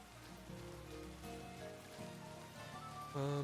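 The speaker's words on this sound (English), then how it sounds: "It is probably not going to help that it is raining." Steady rain in the video game Pokémon Violet patters faintly throughout, with soft background music tones on top.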